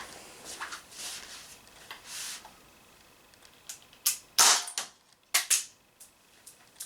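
A TT-33 6mm CO2 airsoft pistol fires several sharp pops, with pellets ricocheting and clattering, spaced irregularly and loud and close, with a few softer hisses and clicks before them.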